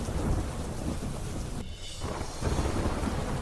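Heavy rain pours steadily across parts of Ahmedabad during the monsoon, with deep rolling thunder rumbling beneath the downpour; the roar stays dense and loud, briefly thinning before swelling again.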